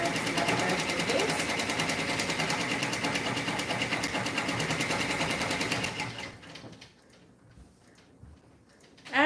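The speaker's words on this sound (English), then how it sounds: "while the machine is still doing the embroidery" An embroidery machine stitching a design for an Easter bunny lovey comforter, a loud, fast, steady mechanical whirring and needle chatter that runs for about six seconds, then stops, leaving a quiet room.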